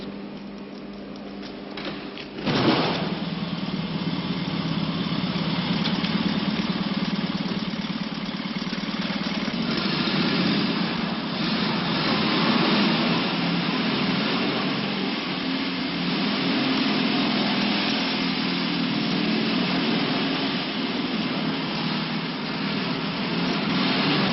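An old car roughly 35 to 37 years old, still running well and never worked on, idles with a steady engine drone and broadband rumble, loud and continuous, with a brief thump near the start and no talk.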